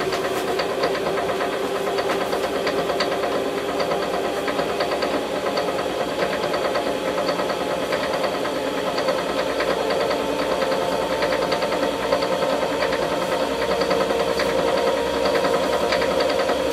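A CNC spindle motor runs steadily throughout during calibration, its constant mid-range mechanical drone and rapid ticking building toward 3,000 RPM, loud and close with no talk.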